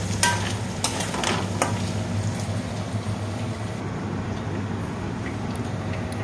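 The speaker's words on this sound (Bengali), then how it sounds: "পনিরটা আমরা ভাজবার জন্য কড়াইতে তেল দিয়ে ভেজে নিচ্ছি।" Paneer frying in oil in a kadai, a steady sizzle with a few sharp clicks and scrapes of stirring near the start, then a constant crackle running on by itself.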